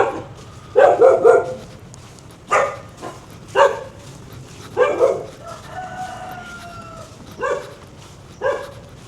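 Dogs bark along a street near An Bang Beach in Hoi An, loud nearby bursts in irregular clusters of one to three barks with brief pauses, and a rooster or chickens calling faintly between them.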